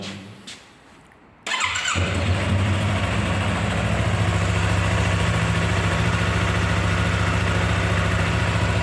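A Yamaha R25 sport motorcycle fires up after a quiet moment and settles into a steady, even idle, loud and close, with no talk over it.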